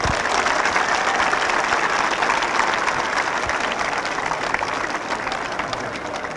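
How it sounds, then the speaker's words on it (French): Students at a school ceremony applaud their parents, a dense, steady wash of clapping from a large crowd that holds for the whole stretch and eases off slightly toward the end. "Chers élèves, applaudissez vos parents"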